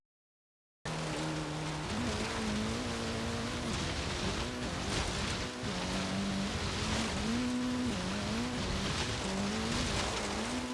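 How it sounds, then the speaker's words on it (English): Honda Civic Type R tearing off-road in Forza Horizon 3, a steady loud engine drone with rising and falling pitch as it shifts, mixed with a constant rushing wash of tire and terrain noise throughout, no talk. "Off-roading in the Civic Type R"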